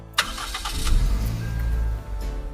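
A car engine starting at the ignition during a first driving lesson, a short crank followed by a steady idle hum that carries on, with no talk over it.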